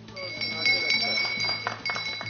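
A school bell rings for the start of the 2020-2021 school year, steady and fairly close. It holds a bright, continuous tone with faint voices or activity underneath.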